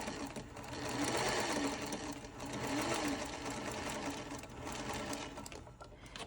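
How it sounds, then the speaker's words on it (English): A sewing machine stitches a quarter-inch seam in quilting fabric, a steady close mechanical whir with a rapid needle rhythm that swells and eases slightly as it runs continuously. "I'm going to start sewing and sew this 1/4 inch seam allowance"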